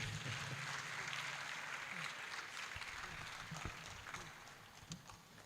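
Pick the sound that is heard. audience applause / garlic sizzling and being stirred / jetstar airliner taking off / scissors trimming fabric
audience applause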